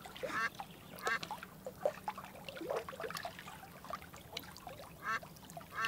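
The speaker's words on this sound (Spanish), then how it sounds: "escuchemos graznidos de pato y agua" Repeated duck quacks, several in close succession, over a soft trickle of water in the background.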